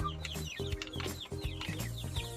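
Young chicks and chickens in a coop, recently moved there, cluck and peep steadily close by, with repeated low clucks under a busy layer of high chirps and no talking.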